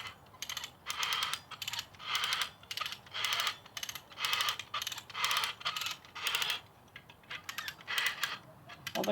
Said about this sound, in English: So now I'm going to start using the come along